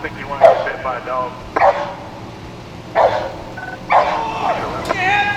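A police dog barks in sharp bursts during an arrest, about five loud barks spread over several seconds with whimpers between them, while people talk and shout over it.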